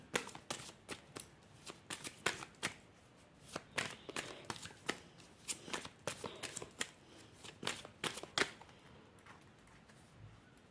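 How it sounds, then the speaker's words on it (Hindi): Tarot cards are shuffled and drawn, producing a close, quiet stream of rapid papery flicks and slaps in uneven bursts, with no voices. "हम आपके लिए कुछ और कार्ड्स निकालते हैं"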